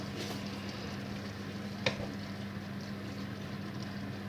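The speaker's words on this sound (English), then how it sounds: "you just kind of let them melt into the middle, and then obviously you can stir them around" Stock pots being stirred into a spaghetti bolognese sauce in a pot, a low steady simmering sizzle with a faint hum beneath and one brief clink of a utensil midway.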